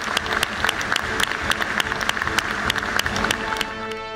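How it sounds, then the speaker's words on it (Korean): Audience applause for the national unity committee at a government meeting, a loud, sustained round of clapping from a sizable room with crisp, evenly spread hand claps that continue to the end. "우리 모두 한번 우리 김한길 위원장님과 위원님들께 박수 한번."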